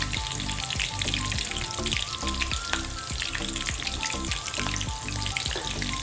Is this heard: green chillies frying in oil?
yes